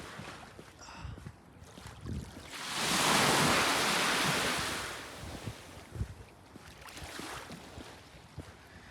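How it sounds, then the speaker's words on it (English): Wind buffets the microphone on a frozen beach in Marquette, Michigan, in early winter while a wave rushes in and washes loudly for a couple of seconds, then recedes to quieter surf and gusts. "this is what a frozen beach looks and feels like and sounds like"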